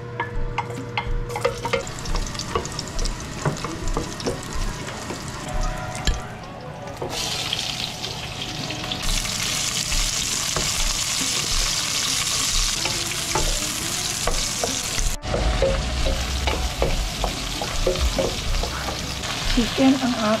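Ground chicken sautés in a pan with a bright, steady sizzle and scraping stirs, with running tap water at times and brief quiet speech in the background.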